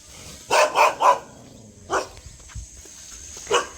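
Dogs bark close by at a flying drone: a quick run of three barks, then two more spaced single barks.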